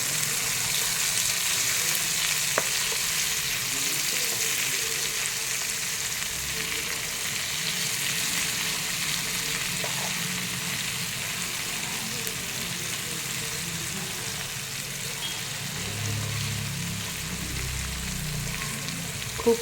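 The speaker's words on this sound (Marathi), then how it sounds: "लो टू मीडियमवरती ह्याला तळून घ्यायचे आहे." Vam fish shallow-frying in a pan over low-to-medium heat, a steady soft hiss of oil sizzling throughout with faint occasional crackles, close and even in level, no talking.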